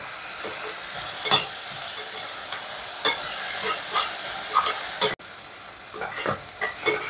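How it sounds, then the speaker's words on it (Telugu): Onions fry in a pan with salt added, giving a steady soft sizzle broken by repeated scraping stirs of a utensil against the pan, close and without talk. "ఆనియన్స్ బాగా రెడ్గా అయ్యేంత వరకు ఫ్రై చేసుకుందాం."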